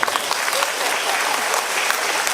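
Dense, even applause fills a hall during an annual day meeting, the clapping from the audience steady and loud with no pauses.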